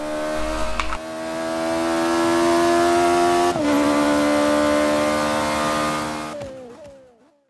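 An Ariel Atom drag car tuned for wheelies in Forza 5 revs its engine loudly and steadily, the pitch dipping and climbing before it cuts off abruptly near the end.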